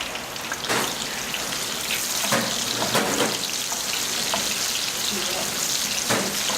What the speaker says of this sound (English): As soon as the turmeric starts to bubble, you're going to add the onion,